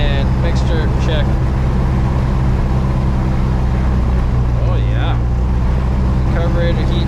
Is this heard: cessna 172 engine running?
yes